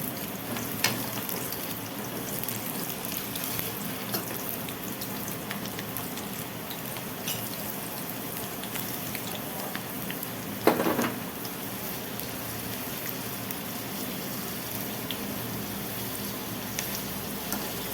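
Ridge gourd sambharo fries in a pan, a steady soft sizzle running throughout, with a brief louder scrape of stirring near the middle and no talk.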